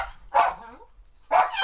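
Two short, sharp dog barks spaced about a second apart, fairly close and loud, with quiet room between them.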